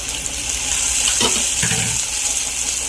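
Ginger garlic paste hitting a hot pan for biryani, a loud steady sizzle with a hissing wash of frying noise and a couple of brief stirring scrapes.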